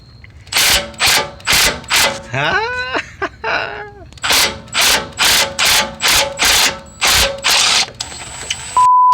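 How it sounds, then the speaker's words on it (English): Pneumatic impact gun hammering on seized starter bolts of a 2005 Ford F150, loud close rattling bursts in a repeated on-off rhythm, with a bolt turning and squealing between bursts. "I resorted to the impact gun. All right, and it's moving"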